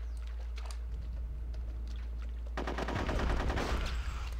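Rapid gunfire erupts in Conker's Bad Fur Day, a loud burst of repeated shots in the second half following quieter game ambience with a deep low hum and scattered effects.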